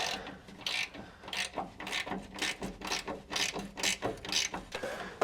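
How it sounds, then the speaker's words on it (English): A hand ratchet loosens a nut on a Chevy 6L90E transmission during removal, giving quick bursts of close, rhythmic clicking that stop and restart as the handle swings back and forth. "It's like this back one I can only get to with the ratchet"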